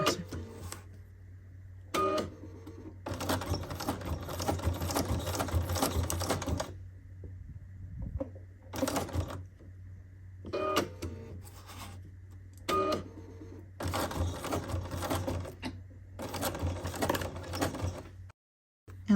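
A sewing machine stitches around a fabric clothing tag in several quick runs of rapid, close mechanical clatter, broken by brief pauses of near-silence.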